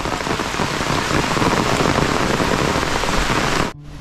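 Heavy rain pours down steadily in a loud, dense wash of drops on surfaces, continuing without a break until it cuts off abruptly near the end.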